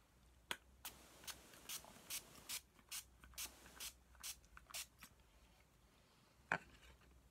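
A makeup setting spray bottle pumps in a quick series of short, crisp hissing spritzes, about a dozen in a row, then one last spray after a pause, close and quiet.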